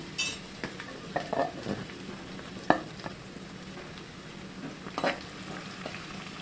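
Garlic and green chillies frying in about two tablespoons of oil in a pan, a continuous moderate sizzle broken by several stirring scrapes and utensil clinks, close by with no talk.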